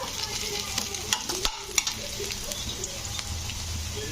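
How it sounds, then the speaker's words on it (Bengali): Onions frying in hot oil in a pan as a bay leaf goes in, a steady close sizzle broken by a few scraping stirs and clinks, with no talk. "পেঁয়াজটা আমার ভাজা হয়ে গেছে এর মধ্যে আমি দিয়ে দিচ্ছি একটা তেজপাতা"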